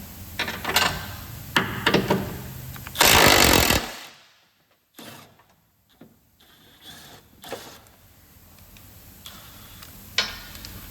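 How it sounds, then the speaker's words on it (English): Wrench work on the crossmember bolts of a 1991 GMC/Chevrolet 1500 4x4 pickup during transmission removal: scattered metallic clicks and knocks around one loud, harsh burst of clattering noise, close up, with no talking. "Take the 4 crossmember bolts out."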